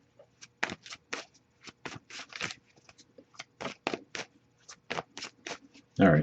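A tarot deck is shuffled repeatedly at close range, making rapid papery riffles and slaps in irregular bursts and ending with a louder rustle.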